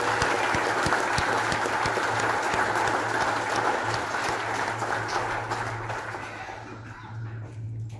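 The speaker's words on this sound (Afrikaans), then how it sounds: "kom ons gee vir hulle 'n lekker hande klap" A church congregation at a Christmas carol service claps together in warm, sustained applause, many hands close and dense, with a low steady hum beneath, the clapping thinning and fading out over the final seconds.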